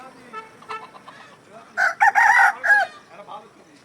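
A country rooster crows once, loud and fairly near, over soft clucking and a quiet outdoor background.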